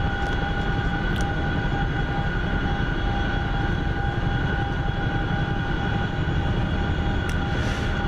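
A fixed-wing aircraft in the DCS flight simulator game, returning to Syria, gives a steady, loud engine drone that holds without a break from start to finish, with faint tonal whine above it.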